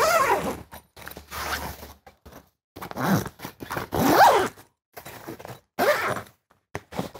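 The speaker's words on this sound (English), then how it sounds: "All I need to do is get this zipped up." The zip on a caravan bed awning is pulled closed in a series of short, rasping bursts separated by brief pauses, close and fairly loud.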